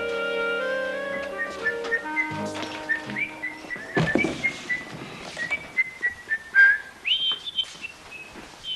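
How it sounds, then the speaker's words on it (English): A person whistles a wandering tune at length, the notes sliding and wavering, with intermittent thuds and clatters of household activity underneath and no talk. "Whistling, you mean?"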